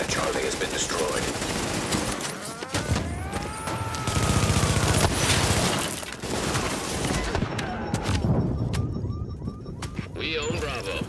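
Sustained automatic gunfire and bursts of shots in Tom Clancy's The Division during a Last Stand fortification battle, dense and loud throughout with a few brief gaps, under faint game voice lines.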